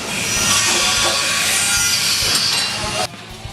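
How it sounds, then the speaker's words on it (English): A grinder works sheet metal on a Mustang floor pan during a Detroit Speed QUADRA-Link suspension install, a loud steady abrasive whine running continuously for about three seconds before cutting off abruptly. "Grind this area clean for a smooth finish."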